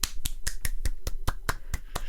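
About ten sharp claps come in a quick, even rhythm, close and crisp, with no voices.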